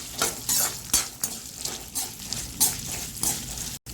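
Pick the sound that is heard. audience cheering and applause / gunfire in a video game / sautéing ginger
sautéing ginger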